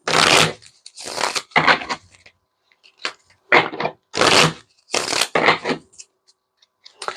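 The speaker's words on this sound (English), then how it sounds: "So let's shuffle and we'll do our first draw." A deck of cards is shuffled in several loud, close bursts of riffling and snapping, separated by short pauses, with no talking.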